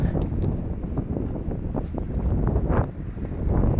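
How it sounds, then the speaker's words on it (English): An east wind blowing on a downtown street buffets the microphone with a loud, continuous rumbling roar and occasional stronger gusts throughout. "we're still going south, and there's an east wind blowing."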